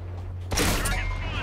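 Tank cannon fire in World of Tanks on Xbox One beta: a single heavy blast bursts in about a third of the way through and rings out with a rumbling tail over a steady low engine hum.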